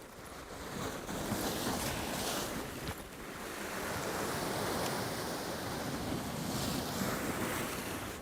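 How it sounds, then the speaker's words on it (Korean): Surf washing in at a coastal rock fishing spot during opaldoom (blackfish) angling, a steady broad roar of breaking waves with gusting wind over the microphone, close and continuous with no voices. "우후 파도가"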